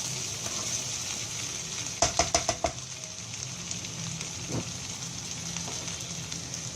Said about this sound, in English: You don't have to cover this dish. Just keep stirring. It's like a stir fry.